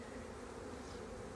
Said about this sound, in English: There's a bee with pollen on its legs.